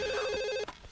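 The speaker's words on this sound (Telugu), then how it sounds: "ఫోన్ రింగ్ అవుతుందండి." A telephone bell rings steadily in a Telugu comedy film scene, then cuts off abruptly near the end, leaving a brief faint rustle.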